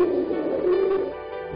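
Pigeon cooing, a short burst of soft, throaty low calls from nearby pigeons, heard alone for a moment with no talking.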